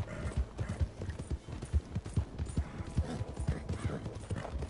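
Horse hooves clip-clop steadily in a video game as a saddled mount walks along, the regular hoofbeats close and prominent with a brief whinny-like sound and no talk.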